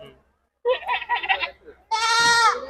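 People talk briefly at the Chitradurga goat market, then a goat lets out one loud, strained bleat close by.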